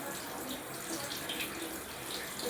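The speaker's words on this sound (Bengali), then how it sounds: "জলের স্পিড একদমই কম, অল্প করে দেওয়া পরে আস্তে আস্তে স্পিডটা কমে যাচ্ছে" Weak, low-pressure water flow running from a GI (galvanized iron) pipe line fed from above the fifth floor, a steady, even rush of water with no voices.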